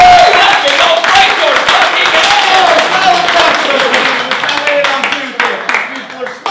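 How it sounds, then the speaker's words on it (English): Loud, dense audience clapping at a live stage performance, a steady wash of many hands that thins toward the end while a voice speaks over it. "Clap if you think that instant richness was incredible"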